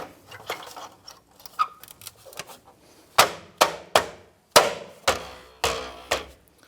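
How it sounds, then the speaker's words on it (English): A wheel cap on a 2008-2013 Nissan Rogue being tapped into place, with a series of sharp, loud, evenly spaced knocks that follow some softer handling noises. "I'm going to go ahead and install your wheel cap"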